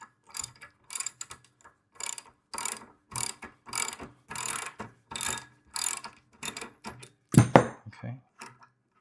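A ratchet wrench loosens 18 mm bolts on a VEVOR plate compactor handle, giving a series of quick close clicking bursts in steady rhythm, with a louder clank near the end.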